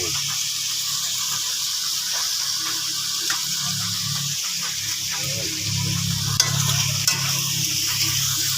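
Catfish adobo being stirred in a cooking pan, a steady sizzling hiss with soft scraping strokes of the utensil running throughout, fairly close, with no voices over it.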